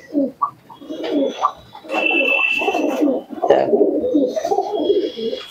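Pigeons in a breeding loft coo continuously and close by, several birds overlapping in rolling low phrases, with a faint high chirp partway through.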